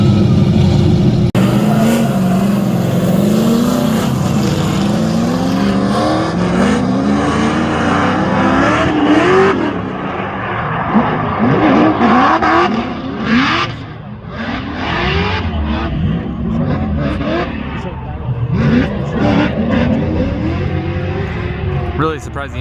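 A drift car engine revs hard and rises and falls in pitch during a drift battle, loud and close, with tires and shifting gears, while people talk and shout over it.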